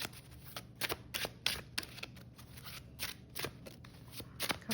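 Tarot cards are shuffled and riffled up close in a quick, uneven run of crisp papery flicks and slaps that fills the whole stretch, with no talking.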